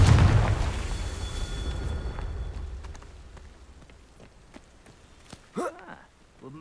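A Confringo fire spell explodes in the video game Hogwarts Legacy, with a loud booming blast that rumbles and slowly fades over several seconds, followed by scattered debris patter and a brief voice near the end.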